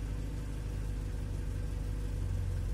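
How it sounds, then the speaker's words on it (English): Car engine running on an Arduino fuel and spark piggyback controller, misbehaving near idle with a steady, rough low drone, close and continuous with no talk. "you can hear that the engine starts to misbehave"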